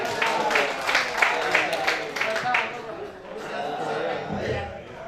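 An audience at a reunion and thanksgiving gathering breaks into applause and clapping for a police commissioner, a dense burst that fades under a man's speech.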